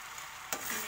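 Bread pieces fry in a pan with Schezwan sauce, giving a brief, soft, steady sizzle with a quick stir-like rustle midway.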